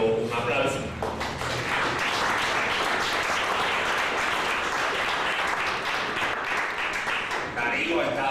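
Applause for a speaker at an Americas summit panel swells into a dense, sustained wash of clapping, with a voice speaking briefly at the start and again just before the end.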